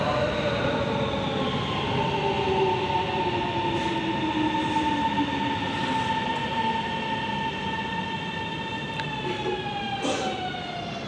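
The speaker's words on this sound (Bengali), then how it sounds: "মেট্রো চলে আসছে।" A metro train pulls into a station in China, its loud rumbling roar joined by rising and falling electric motor whine that stays steady and close for the whole span.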